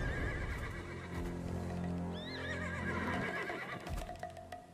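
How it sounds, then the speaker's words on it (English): A horse neighs with a high, shaky whinny in the Black Desert video game. The call comes through a dense bed of game sound, with soft hoof clops in the mix. "The horses won't budge thanks to that scary lot."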